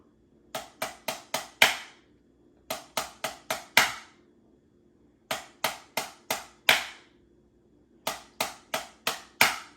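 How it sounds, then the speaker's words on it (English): A drummer plays a slow five-stroke roll on a snare, sharp strokes grouped in clusters of five with the last one accented, repeated four times with pauses between, close and alone. "If you're working on a 5-stroke roll, slow it down."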